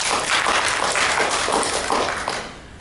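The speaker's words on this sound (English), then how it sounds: "Give him a round of applause." A workshop audience claps in a short, thick burst of applause that stays fairly loud before easing off toward the end.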